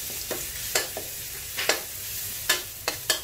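Garlic frying in oil in a pan while eggs and cucumber are stir-fried, a steady close sizzle broken by several sharp scrapes of a spatula stirring it.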